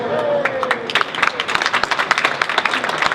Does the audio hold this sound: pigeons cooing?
no